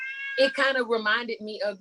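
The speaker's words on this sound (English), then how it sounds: "that was my cat meowing in the background" A house cat meows loudly in drawn-out, sing-song cries that overlap with a person talking, so the calls and the speech blend together.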